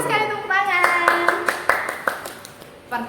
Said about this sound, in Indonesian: Pintar sekali, tepuk tangan.